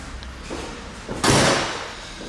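Carbon-fibre panel on an Aston Martin Vanquish S swung shut with a single solid thud, preceded by softer handling knocks, close by and alone without talk.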